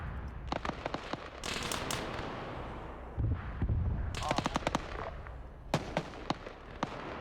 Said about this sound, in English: And we're hearing some explosions of the rockets going over.